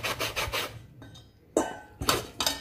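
Orange peel is scraped across a fine grater to zest only the skin, giving repeated rasping strokes in bursts with short pauses, close and fairly quiet.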